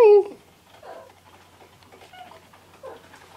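Pet cat giving a short, close meow at the start, followed by quieter faint chirps and mews over a near-silent room.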